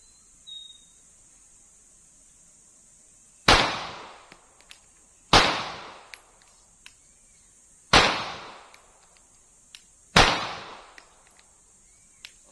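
Four sharp gunshots from a CZ P10 S pistol at a firing range, spaced a couple of seconds apart, each with a booming decay, over a steady insect-like hum in the background.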